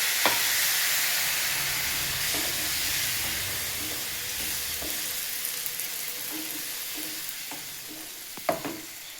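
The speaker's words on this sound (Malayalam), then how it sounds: "കുറച്ച് വെള്ളമൊഴിച്ച് ഈ ഗ്രേവിയുടെ പാകത്തിനെടുക്കാം." Gravy with added water and salt simmering in a pan, giving a steady soft sizzle and hiss with occasional light scrapes and clinks of stirring, alone at moderate distance.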